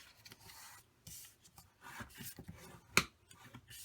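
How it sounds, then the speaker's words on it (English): Folded cardstock half-inch tabs on a Stampin' Up! ribbon slide card being creased, giving soft rubbing, rasping strokes in short bursts close by with one sharp snap near the end, quiet overall with no talking. "crease the 1/2 inch tabs that you just made"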